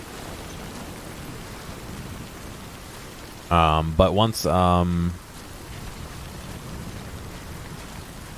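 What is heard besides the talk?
heavy rain in the video game Death Stranding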